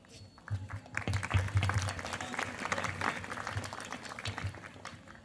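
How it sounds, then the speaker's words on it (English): Applause from an audience at a school Republic Day celebration, fairly faint and distant, with a low hum and voices murmuring underneath across the few seconds. "give them a huge round of applause"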